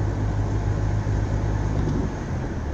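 A car engine lugging at about 1,000 RPM, a steady low droning hum with road noise, continuous and fairly loud from inside the cabin, no talk over it.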